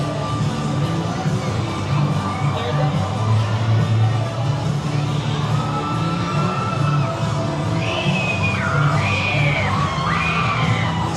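People scream and yell from the Daredevil Dive ride at Six Flags Fiesta Texas, distant crowd shrieks rising over a continuous outdoor park din at night.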